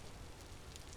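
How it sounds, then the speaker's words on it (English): Steady rain falls in the video game Vintage Story, a dense, even wash of patter that stays constant and fairly quiet with no voices over it. "And then back to rain."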